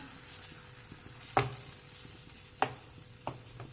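An onion paratha fries on a hot griddle, a soft continuous sizzle near at hand, broken by a few sharper scraping or spatula strokes and no speech.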